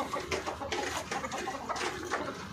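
Backyard chickens kept beside a home garden cluck in short, repeated bursts close by, with soft cooing and a light outdoor murmur behind them.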